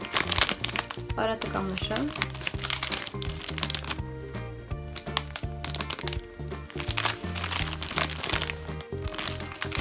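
A plastic pouch of lion-shaped baby snacks, already opened, crinkles and crackles as it is handled up close, under someone speaking and steady background music.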